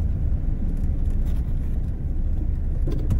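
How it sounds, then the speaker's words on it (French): An agricultural vehicle engine rumbles in a village near Saint-Émilion, a loud, steady low drone with no breaks and no talking. "Donc là on a un engin agricole"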